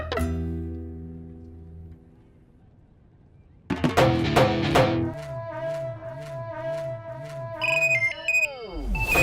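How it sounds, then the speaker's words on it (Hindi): A phone ringtone plays a looping electronic melody, starting softly and then louder with a brighter tune, repeating rhythmically and close by. "फोन बज रहा है।"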